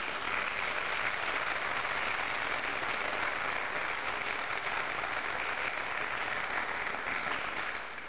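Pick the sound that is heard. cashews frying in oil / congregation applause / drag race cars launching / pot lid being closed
congregation applause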